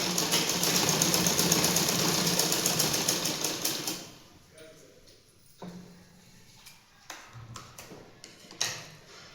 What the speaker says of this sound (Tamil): அடுத்த 1/4 அதே மாதிரி 1/4 இன்ச்சு விட்டு மறுபடியும் 1/4 இன்ச்சு நம்ம தைக்கிறோம்